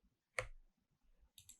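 Computer keyboard keys pressed for a shortcut: one sharp click burst, then a quieter pair of clicks about a second later, close and isolated in an otherwise quiet room.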